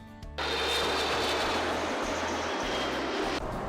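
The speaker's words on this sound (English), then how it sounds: "boarding the 10 hours direct flight from Belgrade to New York" A jet airliner on a long direct flight from Belgrade to New York gives a loud, steady cabin roar that starts abruptly after a brief quieter moment and holds constant with a low rumble underneath.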